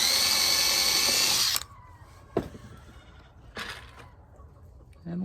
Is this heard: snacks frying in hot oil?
no